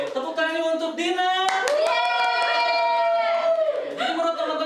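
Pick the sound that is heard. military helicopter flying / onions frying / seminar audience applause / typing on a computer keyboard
seminar audience applause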